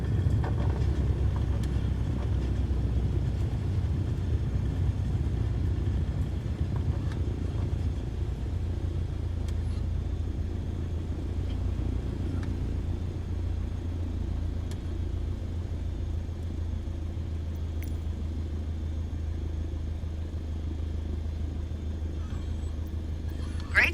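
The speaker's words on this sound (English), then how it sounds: "Now apply the brakes to slow us down and bring the plane to a stop" A low steady rumble of a plane rolling on the runway while braking to a stop in Microsoft Flight Simulator 2020, a continuous engine and wheel drone that eases slightly, with a voice speaking over it.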